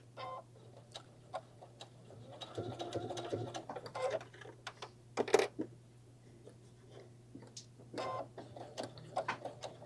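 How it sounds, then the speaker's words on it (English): Sewing machine stitching a half-inch seam on a fabric wine carrier, quiet intermittent mechanical whirring and clicking in short bursts over a low steady hum, with scattered knocks between runs. "So she's just carefully stitching along there."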